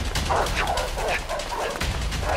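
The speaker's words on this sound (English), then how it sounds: "Fucking dogs!" Several dogs bark and yip rapidly in a video game chase, a steady run of overlapping, fairly loud barks with a constant background.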